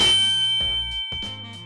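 A bright metallic ding rings out and decays, followed by a few shorter clanging tones, nearby and clear with no talking.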